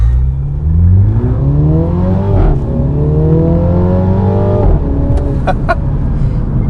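A 2018 MINI Clubman JCW in sport mode accelerates hard from inside the cabin, its engine note rising through the gears with a brief dip at each shift, loud and steady.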